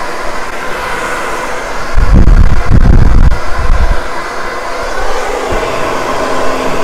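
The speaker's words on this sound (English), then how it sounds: "I just hit the hair dryer." A hair dryer roars steadily during a blow dry of a classic bob, with a loud thumping burst in the middle as a brush bumps it, then a constant airy whoosh resumes.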